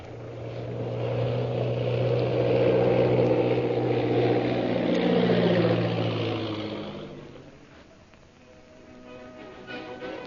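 A propeller plane engine in a radio drama, landing at a hill camp bordering the Gobi Desert: the drone swells loud, bends downward in pitch as it passes, then fades to a low idle.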